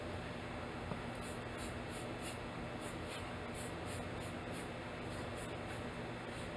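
Cleaner is sprayed onto a GR2500 grinder to dissolve its corrosion inhibitor, heard as a series of short, faint hissing spray bursts in uneven rhythm over a steady background hum.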